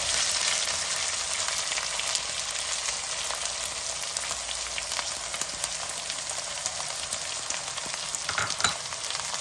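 Green chilli and onion pieces sizzle steadily in hot oil in a pan, a dense, continuous crackling fry heard up close with no voices over it.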